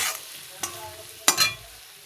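Masala spices for a fish curry fry in a pan, a faint sizzle broken by two short scraping stirs of a spatula.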